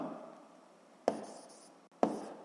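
Pen or chalk writing a physics momentum equation, soft scratchy strokes broken by two sharp taps, close and faint, with no talk.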